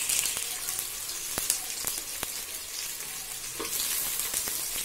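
Sliced onions frying in a pan, browning for a simple biryani: a dense, steady sizzle with scattered crackles and pops, close and moderately loud, no voices.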